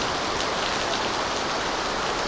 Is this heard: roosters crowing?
no